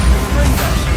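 A Bombarda spell explodes in the video game Hogwarts Legacy, a loud, dense, roaring blast of noise that fills the whole short moment without letting up.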